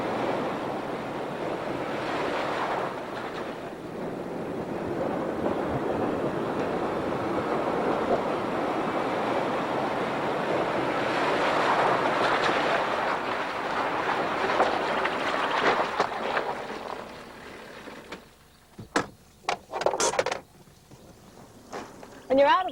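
Jeep Cherokee pushing through water with a steady surging rush of churning water and wind noise, loud and continuous for most of the clip, then thinning to a few splashy bursts near the end.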